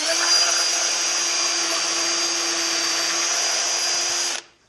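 A power drill runs continuously at high speed, driving a screw into wood while building an old-school sawhorse, a loud steady whine that holds for about four seconds before cutting off abruptly.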